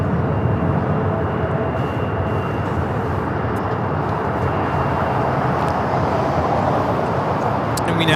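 A Boeing 757-200 jet rolls down runway 25 right at LAX as a steady, broad engine roar that holds at a constant level throughout, with no voices over it.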